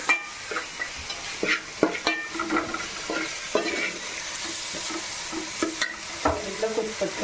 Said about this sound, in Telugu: ఉల్లిపాయలు వేగుతున్నాయి కదండి, అప్పుడు కైమా వేసుకుంటున్నాను.